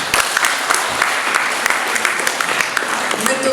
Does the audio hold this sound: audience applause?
yes